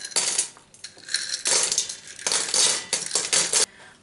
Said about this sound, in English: Also just going to measure out a bit of pasta to be boiled later